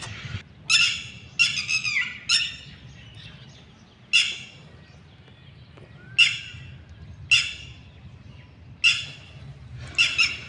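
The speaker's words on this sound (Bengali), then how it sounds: "এই যে একটা পা লম্বা কী পাখি জানি না, তখন থেকে না খুব আওয়াজ করে যাচ্ছে, তোমরা একটু শোনো" A large bird gives loud, harsh squawking calls in separate bursts every second or two, standing out over a quiet, low background hum.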